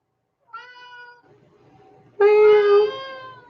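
A cat meows twice, close by: a shorter cry, then a louder, longer, drawn-out meow.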